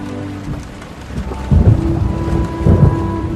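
A thunderstorm rages beyond a window: steady rain patters throughout while low thunder rumbles swell twice, close and heavy, with no voices.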